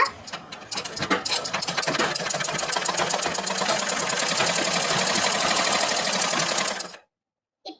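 A pedal-operated tailoring sewing machine running steadily, a loud, fast mechanical clatter with a ticking rhythm that builds up at the start, holds for several seconds, then stops abruptly.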